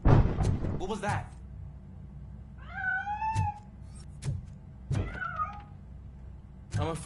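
A cat meows in the Robocop: Rogue City video game, two or three drawn-out meows among heavy thuds and clanks, fairly close and moderately loud.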